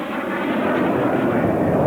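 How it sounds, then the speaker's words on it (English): An F-111 jet flying at the 1997 Australian International Airshow gives off a loud, steady broadband roar that swells slightly over the short stretch, close and dominant with no voices. "The F-111 is still one of the fastest jets in the sky."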